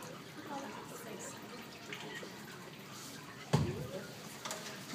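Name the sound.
apple cider dripping from cider press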